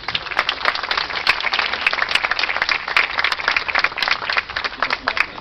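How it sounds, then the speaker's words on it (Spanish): A crowd at a Catholic street procession for Nuestra Señora de la Reconciliación in La Molina claps continuously, a dense outdoor wash of applause with individual sharp claps standing out. "¡Aplausos, hermanos!"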